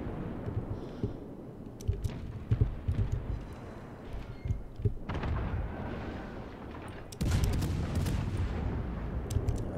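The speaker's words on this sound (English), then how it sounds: "Are people being deafened by the gunshots?" Heavy booming naval gunfire from World of Warships, repeated thuds and blasts in irregular bursts, loud and close, followed by a sustained rumbling roar.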